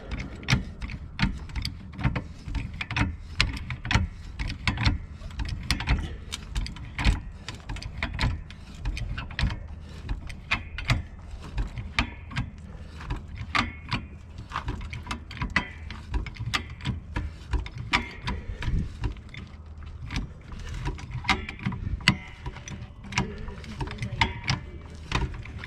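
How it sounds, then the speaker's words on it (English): A car jack raises a Ford Mustang in a steady stream of close mechanical clicks and ratcheting rattles, with no pause for the full length. "So we're gonna jack it up."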